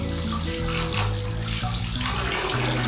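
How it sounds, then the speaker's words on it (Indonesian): Tap water runs steadily into a sink while hands are rinsed under the flow, a close, continuous splashing gush with shifting tones as the hands move through the stream. "bilas dengan air mengalir"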